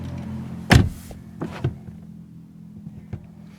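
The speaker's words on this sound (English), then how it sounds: "If I close the door," A car door on a 2019 Mercedes-AMG GT 63 S 4-Door shuts with one solid thump, followed by a few softer clicks and small mechanical taps in a quiet interior.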